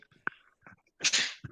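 A single loud sneeze bursts out close by, preceded by a few soft vocal sounds and sharp breaths in a quiet room.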